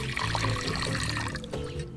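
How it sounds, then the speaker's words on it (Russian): Warm water is poured into a bowl of broken-up fresh wet yeast, a continuous trickling pour that tapers off near the end, with no talking. "Вот такие мокрые дрожжи разламываем руками прямо в миску. Заливаем теплой водой."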